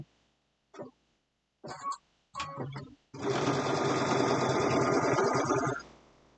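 A sewing machine locks a stitch while making an Easter basket: a few brief separate stitch bursts come first, then one steady, loud run of motor whir lasting close to three seconds, stopping abruptly. No one speaks.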